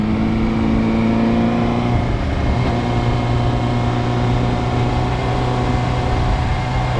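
A motorcycle engine pulling into a roundabout, a steady, close, humming drone with a slight rise as it moves off, with no talking.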